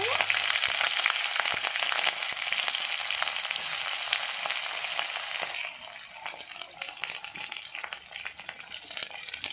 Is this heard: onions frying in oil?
yes